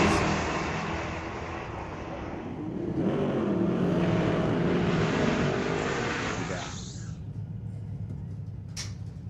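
Street legal drag race cars, with a Corvette winning, roar down the strip at Mission Raceway Park, a loud broadband engine rush swelling and fading as they pass, then cutting off to a quieter background.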